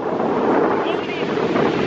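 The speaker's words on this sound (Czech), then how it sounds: "vítr fučí." Strong coastal wind off the Atlantic Ocean on the Camino de Santiago walk between Porto and Povoa de Varzim, buffeting the microphone in a loud, continuous roar with no break.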